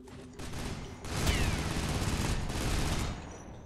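Sustained burst of automatic gunfire in the video game Loadout, loud and dense for about two seconds with a short lull before and after, no talk over it.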